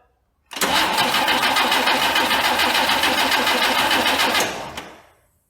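A 1962 AMC Rambler engine cranks hard for about four seconds, a loud steady rapid chugging from the starter without catching, then cuts off abruptly.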